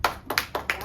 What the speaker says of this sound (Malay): Tepuk tangan Saleha